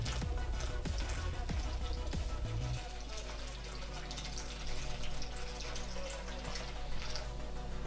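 Water pours steadily from a giant bottle into a tarantula enclosure to flood it, a continuous close splashing and gurgling that runs the whole time without talk.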